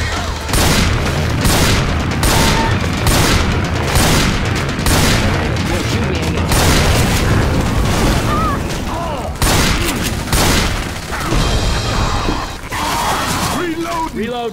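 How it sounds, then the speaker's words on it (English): Dense video-game gunfire rattles continuously in a chaotic multiplayer firefight, with bursts and booming shots stacked tightly together, loud and close, while players shout over the racket. "Can we not shoot each other"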